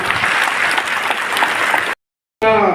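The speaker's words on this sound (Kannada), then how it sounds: "ಅವರಿಗೆ ದೊಡ್ಡ ಚಪ್ಪಾಳೆಯನ್ನ ನೀವು ಹೊಡಿಬೇಕು" An audience at an award ceremony breaks into dense, loud applause for the guests, sustained for about two seconds before cutting off abruptly.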